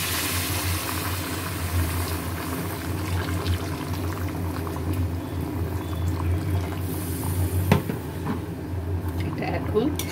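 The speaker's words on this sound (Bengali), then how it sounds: "এবারে জল দিচ্ছি, গরম জল" Hot water pours into a pot of mutton curry that has been cooked down in oil, making a continuous rushing, bubbling wash that runs evenly throughout at close range.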